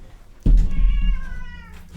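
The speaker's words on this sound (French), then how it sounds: "je vais donner à bouffer à mes chats parce que sinon, on va faire que les entendre" A cat lets out a single drawn-out meow after a sudden thump, close and clear, fading over about a second and a half.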